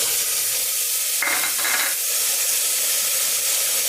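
Potato, cauliflower and peas being sautéed in cooked masala for Maharashtrian masala bhat, a steady close sizzle with a brief burst of stirring and spattering partway through.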